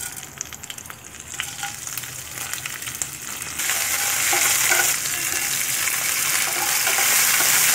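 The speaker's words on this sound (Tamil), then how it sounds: "காஞ்ச மிளகாய் போட்டு தாளிச்சுக்கோங்க." Mustard seeds, urad dal, curry leaves and dried red chillies tempering in hot oil give a crackling sizzle with stirring scrapes that jumps louder partway through and stays steady and close, without speech.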